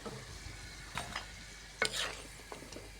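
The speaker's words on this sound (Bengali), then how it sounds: "আর বেগুনি ভাজা হবে" Soft, steady sizzle of eggplant fritters frying in oil, punctuated by a few light clinks and scrapes, quiet and close with no voices.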